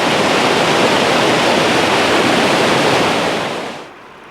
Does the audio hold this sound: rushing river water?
yes